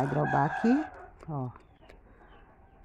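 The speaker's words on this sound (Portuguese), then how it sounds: "Desculpa o barulho aí, tá, pessoal? É galo aqui na frente." A rooster crows outdoors in front of the house, its call rising and falling briefly while someone speaks Portuguese nearby over a paper-cutting craft project.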